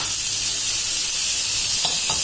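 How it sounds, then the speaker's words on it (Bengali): Pointed gourd and potato peels fry in oil, a continuous close sizzle broken near the end by two short scraping stirs. "এই পটলের খোসা আর আলুর খোসাগুলো হালকা করে ভেজে নিতে হবে।"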